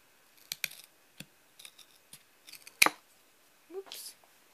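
Scissors cutting out pieces for a model horse jump, with a series of soft snips and clicks at irregular intervals, close and quiet, a few louder crisp cuts among them, and no talking.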